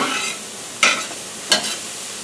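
Green beans and onions sauteing in a pan, a soft steady sizzle broken by two brief louder stirring scrapes, with no talk.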